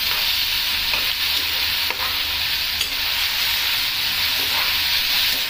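A cashew-based gravy masala fries in a pan while being stirred: a loud, steady, close sizzle with faint scraping strokes underneath, unbroken throughout.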